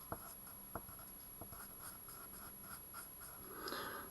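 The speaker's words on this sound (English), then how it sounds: "And pencil it into your diagram." A pencil scratches quietly across paper while angles are filled into a geometry diagram, with a few soft taps and short strokes and no talking.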